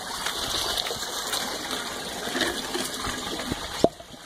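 Continuous rushing and trickling of water through an aquaponics bell siphon, fairly quiet and steady, ending in a brief gurgling gulp near the end.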